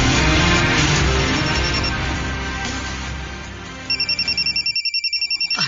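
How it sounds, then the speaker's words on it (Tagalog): A cellphone ringtone sounds in a quiet indoor scene, first under a dense wash of background sound, then alone as a steady run of repeated electronic chirps near the end. "Ang imong cellphone."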